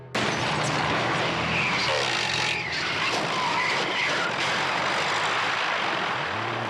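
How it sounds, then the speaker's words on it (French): A propeller airplane landing in front of a car during a commercial shoot: a loud, sustained engine roar with a whooshing rush and a brief skid-like scrape, close and with no talk. "un avion doit se poser devant la voiture"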